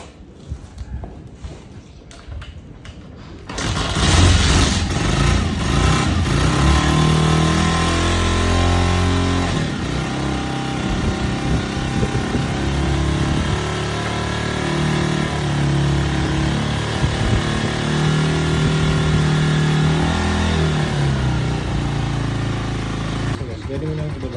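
A Honda TMX 125 motorcycle, started on choke after the electric start fails, cranks briefly, then catches and settles into a loud, steady, close-up idle while someone talks over it.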